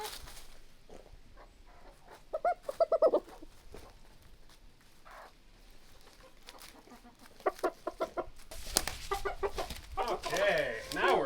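Hens in a backyard coop cluck in scattered bursts, with short louder calls and fowl squawks that rise toward the end against a low outdoor background.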